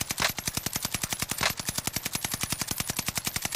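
Sustained automatic gunfire in Call of Duty Warzone, a steady rapid stream of close, loud shots at an even rhythm lasting several seconds with no talking.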